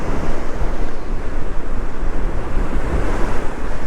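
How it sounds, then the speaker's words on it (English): Strong wind roars across a sandy beach, buffeting the microphone while surf breaks steadily behind it, loud and constant with no voices. "You can probably hear all the wind."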